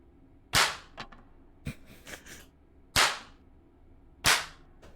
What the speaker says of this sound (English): What do the bang snaps do when we put them in?